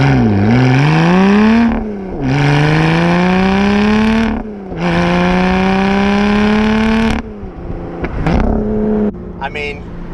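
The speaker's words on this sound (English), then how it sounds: "I am now just going to give you a very early or an initial drive of my new Evora GT410." A new Lotus Evora GT410 Sport sports car engine revs loudly up through gears, each pull rising in pitch then cutting off at a shift, with three strong climbs before easing off into quieter rumbling and small blips.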